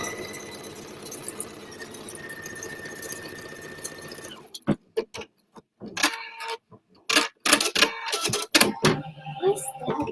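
An embroidery-style sewing machine stitches out a design: a steady mechanical hum for several seconds, then a run of sharp, rapid clicks and taps in uneven bursts, close and fairly clear.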